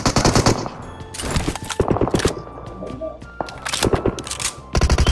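Automatic gunfire from a mobile shooter game comes in loud, rapid bursts separated by short pauses, up close and dominating the mix.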